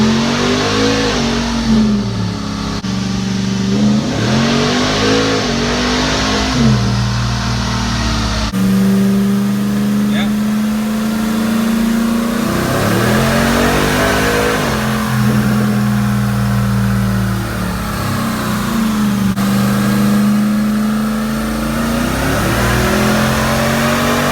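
A car engine revs repeatedly on a Dynojet dynamometer, rising and falling through several pulls with a steady low drone and whine between them, loud and close for the whole stretch, with no talking.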